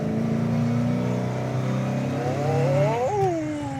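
A loud 1970 Plymouth Superbird Road Runner engine idles then revs up, pitch climbing steadily as it accelerates and shifts, heard close by.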